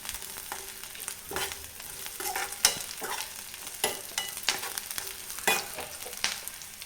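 Green chillies and mint leaves fry in a pan for a village-style green gram sambar, giving a steady close sizzle broken by repeated scraping stirs and clinks, with no talk.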